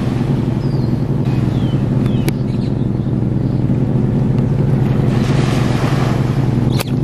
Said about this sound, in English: You can hear that exhaust leak so bad.